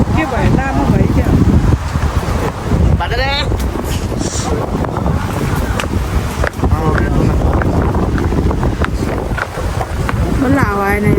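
Gusty wind blows outdoors at Memorial Park in Newcastle, buffeting the microphone with a steady low rumble throughout, while people talk over it.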